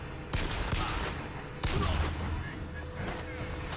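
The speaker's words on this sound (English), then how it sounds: "The pistol's not very powerful, but it can fire pretty quickly" Rapid pistol shots in the first-person shooter BioShock Infinite, two quick bursts of sharp cracks at moderate loudness, with a few separate reports and echoing gunfire around them amid game clamor.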